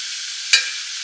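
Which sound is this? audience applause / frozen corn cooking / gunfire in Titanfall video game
frozen corn cooking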